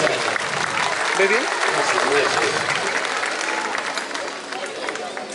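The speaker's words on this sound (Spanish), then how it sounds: "fuerte el aplauso" An audience claps loudly and steadily through a traditional community event in Pelarco, with crowd murmur and a brief spoken question beneath the applause.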